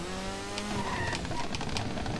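Rally car engine noise from the GameCube racing game Pro Rally, a steady droning whine with rising tones and faint tyre squeal, loud and continuous with no talk.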